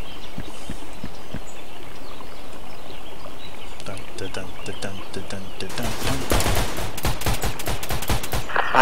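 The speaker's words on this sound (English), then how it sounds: "I'm getting fired at from their lobby." Gunfire in the video game Intruder: scattered sharp shots at first, then dense, rapid bursts of fire crowding together toward the end over steady background noise.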